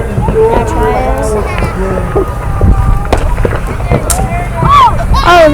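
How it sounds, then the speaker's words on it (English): Consumer fireworks pop and crackle outdoors in scattered bursts, some distant, a few sharper and closer, while several people chat and exclaim throughout. "Are those the mall fireworks?"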